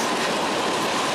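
A freight train led by a pair of SD45T locomotives passes on the Greenwich Sub, a dense, steady rolling roar heard close and alone.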